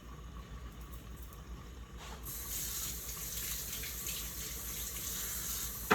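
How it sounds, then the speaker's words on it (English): Water pours from a tap into a blender packed with greens, a steady rushing flow that swells louder and brighter after a couple of seconds and continues without talk. "I'm gonna add some water to this."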